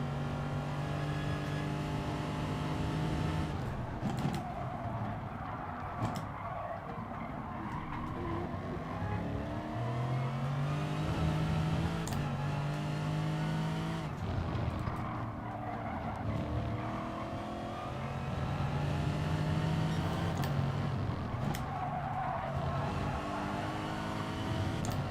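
A Lexus GT3 race car in the Gran Turismo Sport video game gives a continuous, loud engine drone that rises and falls through gear changes, with intermittent tire squeal and skidding in the corners.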